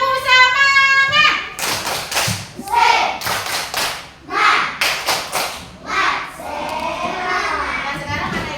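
Children in a classroom do a rhythmic spirit clap, loud bursts of hand claps and slaps in a patterned beat with voices chanting and calling out between the claps.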